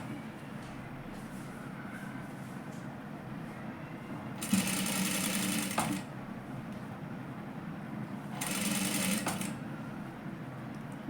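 A sewing machine stitching a katori blouse in two short bursts of rapid whirring and clattering, close and moderately loud, set against a steady low background hum.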